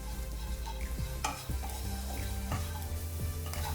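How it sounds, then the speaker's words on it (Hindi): Bitter gourd pan-frying Konkani style, a continuous close sizzle with several scraping strokes of a spatula against the pan as the pieces are stirred. "3 से 4 मिनट तक अच्छे से फ्राई करेंगे और इसको कंटिन्यूअसली स्टियर करते रहेंगे ताकि ये चारों तरफ से अच्छे से फ्राई हो जाए।"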